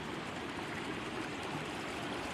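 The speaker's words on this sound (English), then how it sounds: "Made it to the cold little stream." Cold little mountain creek flowing steadily, a continuous broadband rush of water close by with no voices.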